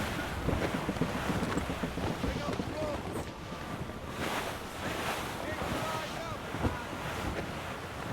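A sailing ship pushes through a rough squall at sea in Assassin's Creed, with wind roaring, waves crashing and rigging creaking in a dense, continuous wash of noise.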